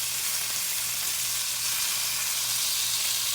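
Ham fries in a pan with a steady, close, bright sizzle that stays even from start to finish, with no talking over it.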